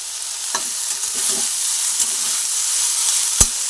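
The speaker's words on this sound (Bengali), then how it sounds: "এক সুন্দর একসঙ্গে ভেজে নিচ্ছি" Drumstick (moringa) flowers fry in a pan with a loud, steady hiss of sizzling oil, broken by a few soft stirring scrapes and one sharp clink near the end.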